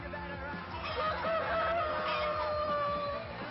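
A rooster crows once in a long, loud, drawn-out call that carries over a steady background.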